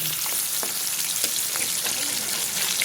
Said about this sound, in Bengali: রুই মাছ দিয়ে রুই মাছ ভাজতেছি আজকে